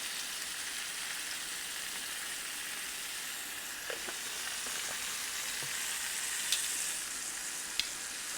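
Seasoned meat searing over high heat in a hot pan for sauce piquant, a constant dense sizzle with a few soft pops and utensil ticks, no talking.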